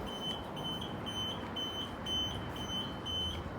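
A small timer beeps in a rapid, even series of short high tones, about a dozen pulses, moderately close over a steady broadband background hiss.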